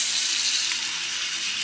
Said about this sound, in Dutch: Dit is onze kraan. Zo. Komt gewoon water uit.